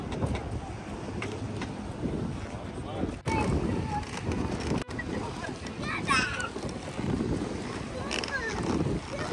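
Boat ride at sea at sunset in West Bay, Qatar, with a rumbling motor and buffeting wind noise throughout, while people talk over it and a couple of brief gaps break the sound.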